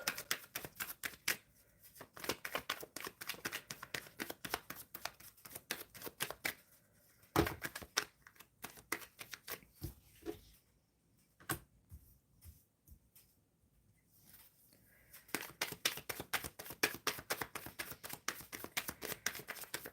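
Tarot cards are shuffled close to the microphone in quick bursts of rapid riffling, separated by a few pauses and single sharp taps.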